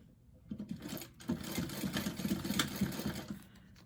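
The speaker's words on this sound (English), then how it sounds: "I'm gonna sew from one inside corner to the other" A sewing machine stitches from one inside corner of a fabric bag to the other, its needle chattering in a steady, close rhythm for a few seconds, then stopping.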